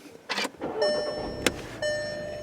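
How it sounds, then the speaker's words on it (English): A 2015 Volkswagen Golf GTI is started with its start-stop button: a short click and whirr, then a sharp crank and the engine catching into a steady idle hum close by. "let's turn on this car with the start-stop engine button right there"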